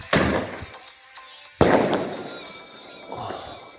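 Fireworks fired from a remote control car: two sharp, loud bursts with crackling, hissing tails, followed by a fainter third pop, outdoors and close.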